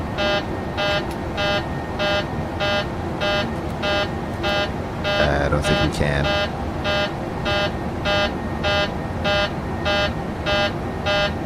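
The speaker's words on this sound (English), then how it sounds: "Let's go ahead and silence that alarm if we can." Cockpit alarm in a PMDG 737-800 flight simulator game, a repeating buzzer-like tone pulsing at a steady rhythm about twice per second, with a brief voice in the middle.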